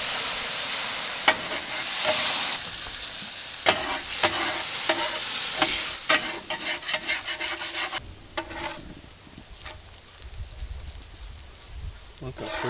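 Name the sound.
bacon frying on a Solo Steelfire travel griddle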